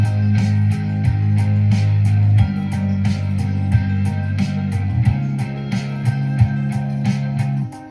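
Dry drum track from a song, before any synths are layered on, with steady repeated hits and a low bass line carrying through, loud and alone.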